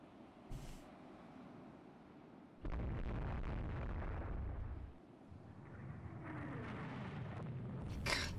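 A naval shell hit in the Rule the Waves 3 naval warfare game, a sudden heavy explosive boom followed by a sustained rumbling roar that fades into a rushing, noisy wash, with no talk.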